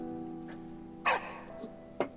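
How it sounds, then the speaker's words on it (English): Big dog in the video game Valiant Hearts gives two short, sharp barks about a second apart, cutting above a quiet musical backdrop. "That's a big dog."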